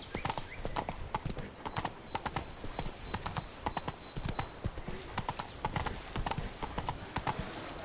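Hooves of Roach, Geralt's horse in the Witcher 3 video game, clip-clopping in a steady rhythmic gait at moderate distance, continuous throughout.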